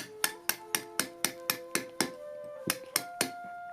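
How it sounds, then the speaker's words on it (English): Close, bright metallic strikes of a hammer on a tooth chisel carving stone, about a dozen evenly spaced blows with a brief ringing tone after each, repeating at a steady rhythm with no voices. "And then you go in with a tooth chisel to smooth that out."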